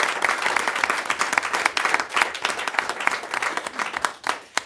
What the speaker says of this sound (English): So can we give a round of applause to all of our teachers?